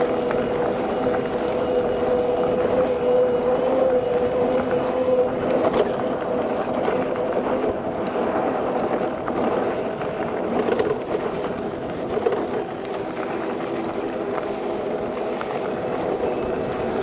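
A Vanpowers Grand Teton Ultra e-mountain bike ridden fast at about 26 mph in Arizona, with a steady loud rush of wind and a tonal motor and tire hum throughout, no talking.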